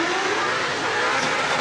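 Ford Mustang RTR race car driven by Vaughn Gittin Jr. at Goodwood Festival of Speed 2024, a loud continuous engine roar blending with crowd noise as it passes, with faint commentary over it.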